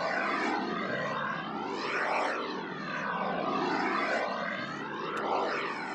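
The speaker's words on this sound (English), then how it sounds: "It sounds like a jet flying overhead." A synthesized whoosh like a jet passing overhead, a continuous broadband roar with slow sweeping swells that rise and fall several times, steady and fairly loud with no voices.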